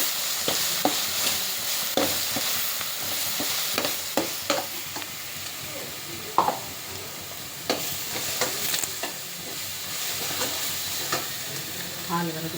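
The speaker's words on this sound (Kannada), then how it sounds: "ಕಲರ್ ಚೇಂಜ್ ಆಗತ್ತನ ಫ್ರೈ ಮಾಡ್ಕೊಂಡು ಹಂಗೆ." Coriander stir-fried in a hot pan until its colour changes gives a steady sizzle throughout, with frequent sharp spatula scrapes and taps against the pan, close and fairly loud, and no talk.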